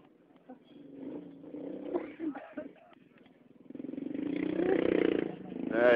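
A motorcycle engine passes nearby, its tone rising and growing louder toward the end while a person talks over a phone line.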